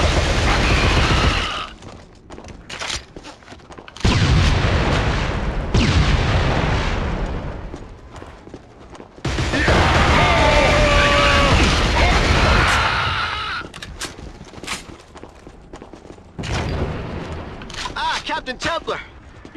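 Grenade blasts and gunfire in the Killzone video game, several loud booming bursts separated by short quieter gaps, with mechanical clatter and distant rattling shots between them.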